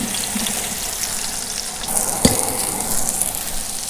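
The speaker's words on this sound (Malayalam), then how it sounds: "അപ്പോൾ ഇതിലേക്ക് ഞാൻ ഉള്ളി ഇടുന്നുണ്ട്." Onions frying in coconut oil in a pot for a Wayanad-style buffalo leg dish, with a steady close sizzle throughout and a brief sharp clink or stir near the middle.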